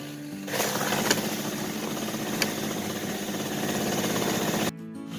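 A Rokon motorbike engine strains while pulling a tree down, a loud, close, steady mechanical drone with a couple of sharp jolts before it abruptly drops away near the end.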